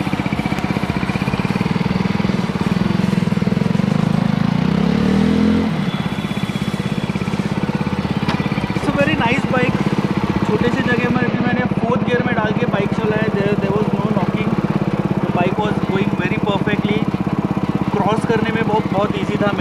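A Benelli TRK 251 250cc motorcycle runs with a steady engine drone throughout a test ride, with someone talking over it much of the time.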